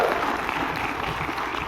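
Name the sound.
audience applause and clapping for speaker Regina Ascension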